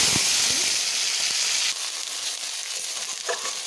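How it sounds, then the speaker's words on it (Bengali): Whole cumin seeds fry in hot oil for a chicken curry, giving a loud, steady sizzle and hiss that eases slightly partway through, with faint scraping as the pan is stirred. "এবার দিয়ে দিচ্ছি গোটা জিরে, হালকা একটু ভেজে নেওয়া হলো 1 মিনিট মতো"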